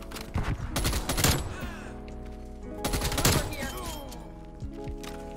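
Close, loud video game gunfire from a KSP 45 in Call of Duty comes in two heavy bursts of rapid shots separated by a short pause, then a few scattered single shots near the end.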